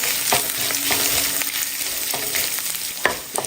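Green chillies sizzle in hot oil in a pan on low flame, a steady bright crackle broken by several sharp scrapes of a spoon stirring them.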